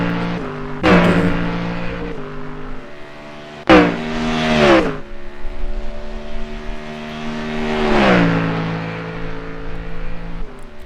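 A Ford Mustang race car in iRacing laps at full throttle, its engine roaring through rising revs and abrupt gear shifts, loud and close with steady pitch sweeps as it accelerates and brakes.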